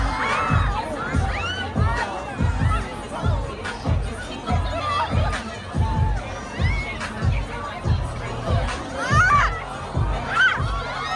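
Dense crowd moving along a laneway: a loud babble of many voices with shouts and cheers, punctuated by rhythmic low thuds of footsteps.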